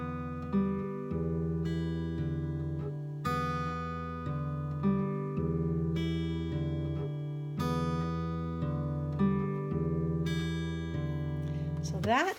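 An acoustic guitar repeats a fingerpicked pattern at a steady, moderate pace, plucked notes ringing over a bass note, heard close and on its own.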